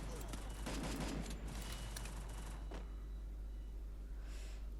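MP5 submachine gun fired in a video game, a dense rapid burst of shots up front followed by a couple of single reports and a short later burst, over a constant low electrical hum.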